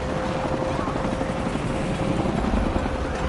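A helicopter in the video game Shadow of the Tomb Raider gives a loud, continuous rotor roar throughout, close and steady, with game chatter blended faintly in the mix.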